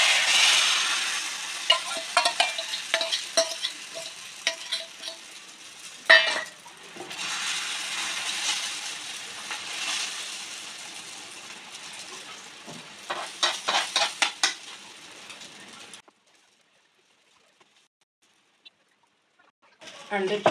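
Egg batter mixed with tomato, onion and masala sizzling and frying on a hot tawa griddle, with a steady broadband hiss and occasional utensil scrapes, loud and close, before cutting to near silence at the end.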